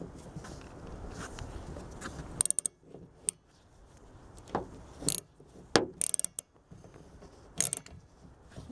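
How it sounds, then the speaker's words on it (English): A tie rod puller is tightened onto the windshield wiper linkage of a 2009 Dodge Grand Caravan, giving irregular close metallic ratcheting clicks and creaks between quieter scraping handling sounds. "now we're just going to tighten up that tie rod puller"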